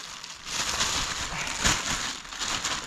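A plastic bag for holding fish crinkles and rustles steadily at a lakeshore, close and fairly loud throughout, with brief crisp crackles.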